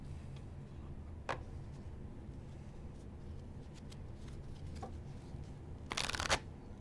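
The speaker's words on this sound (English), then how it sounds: "I'm shuffling them once more just to make sure." Quiet riffles of a Lenormand card deck being shuffled come in short, crisp bursts, ending with a louder, quicker flurry.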